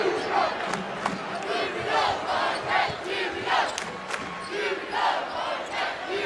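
A packed basketball arena crowd roaring during a Marquette vs Georgetown game, loud sustained cheering that swells in rhythmic waves, with occasional sharp sneaker squeaks.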